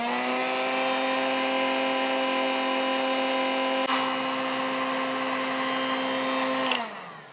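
A pottery wheel turning a wide, shallow clay platter sends out a loud, steady motor hum alongside a blowing heat gun, one continuous tone that shifts slightly midway and winds down near the end.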